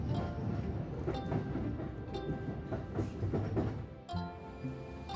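A Hanshin Railway limited express train rumbling along the rails near Kobe with a steady low roar and faint rhythmic clacking, fairly loud and continuous, no voices.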